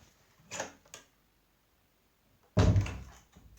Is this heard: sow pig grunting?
no